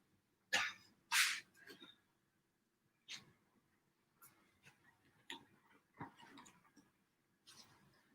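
A dog plays with a hard treat-dispensing ball on the floor, producing scattered knocks and rattles at irregular intervals, a couple of louder clatters near the start followed by softer rolling taps, fairly close.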